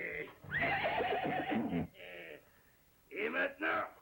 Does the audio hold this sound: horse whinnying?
yes